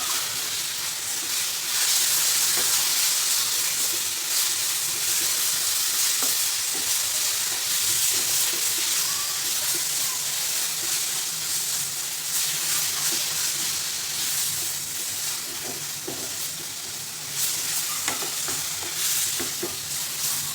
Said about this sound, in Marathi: आणि हा आंब्याचा पल्प पण घालायचा.